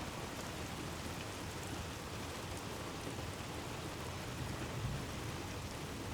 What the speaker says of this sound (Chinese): 终于下雨了